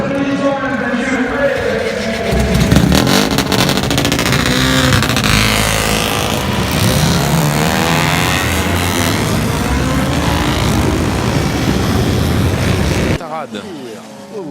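At the Le Mans Classic 2018, race cars roar off at the start in a dense, loud wall of engine noise, with a commentator talking over it before the sound cuts off near the end.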